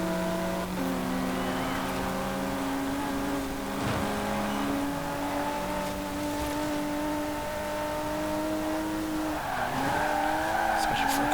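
A rear-wheel-drive car drifts in the Forza Horizon 4 racing game, its tyres squealing in long continuous slides over a steady engine drone as the pitch shifts with each slide.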